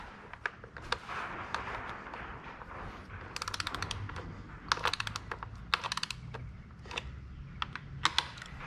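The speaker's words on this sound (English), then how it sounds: "And we're gonna start torquing it." A torque wrench tightening bolts to 16.5 foot-pounds on a Suzuki outboard motor, giving rapid bursts of crisp ratcheting clicks between single sharp ticks, close-up and quiet, with no voices.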